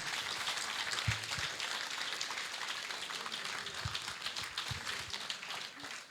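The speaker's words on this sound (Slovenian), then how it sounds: "še en lep aplavz za naš legendarni ansambel" An audience claps for a Slovenian folk band at a Sunday afternoon Mother's Day concert, a dense, steady patter of many hands that carries on evenly throughout at moderate loudness.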